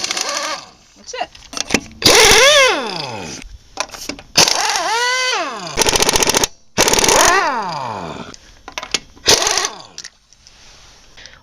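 An impact wrench removes car lug nuts while set to reverse, firing loud rattling bursts of a second or two with whirring spin-ups and spin-downs. Someone talks in the quieter gaps between bursts.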